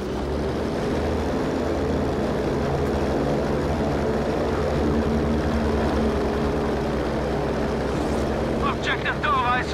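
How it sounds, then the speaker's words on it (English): Propeller aircraft engine in Battlefield V multiplayer, a loud, steady drone with a rough wind-buffeted texture that stays constant throughout, and a faint voice breaking in near the end. "We can take a second, fly a plane."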